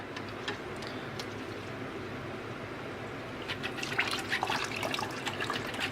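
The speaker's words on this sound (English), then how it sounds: "We want to take the new filters, and I like to dunk them in the tank first." Replacement aquarium filter pads dunked into a planted freshwater tank give soft, fairly faint water sloshing and splashing, growing busier toward the end, with no talk.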